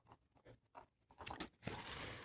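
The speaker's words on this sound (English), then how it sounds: "this one who's chewing on a bone" An animal chews on a bone in a camping setting, with several soft gnawing bites followed by a louder, steady crunching near the end, close by and alone.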